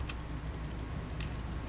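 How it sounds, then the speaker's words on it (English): Steady rapid clicking of a computer keyboard and mouse during PC gaming, a continuous patter of small taps in the background with no talk. "Sorry if you can hear the clicking in the background."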